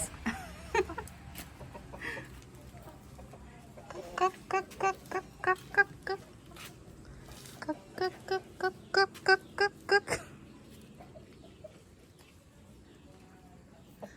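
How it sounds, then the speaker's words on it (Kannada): A flock of native country chickens waiting to go into their coop at dusk gives repeated bursts of clucking and short calls, clustered in rhythmic runs, fairly close against a quiet rural background. "ಎಷ್ಟು ಕೋಳಿಗಳು ನೋಡಿ, ಎಲ್ಲ ನಾಟಿ ಕೋಳಿಗಳು ಗೈಸ್"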